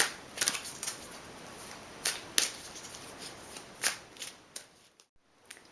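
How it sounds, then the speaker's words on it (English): An Energy Oracle card deck shuffled by hand before a card is pulled, with a series of crisp, close riffles and snapping flicks that are irregular and separated by short pauses, then a brief silence near the end. "I'm going to go ahead and pull the Energy Oracle card for some clarification"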